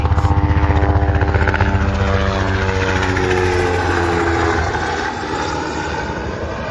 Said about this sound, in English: Helicopter making noise now.